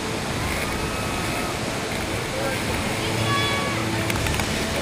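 Rushing water at Pagsanjan Falls in the Philippines, a dense continuous roar close by and loud, steady throughout with faint tonal sounds above it.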